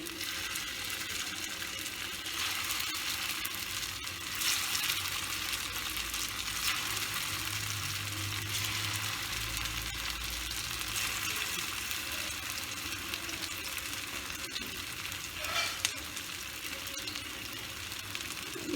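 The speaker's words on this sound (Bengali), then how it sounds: "আমি শ্যালো ফ্রাই করছি" Flattened rice cutlets shallow fry in hot oil over a low flame, making a steady, close, hissing sizzle with faint crackles, heard alone and without talk.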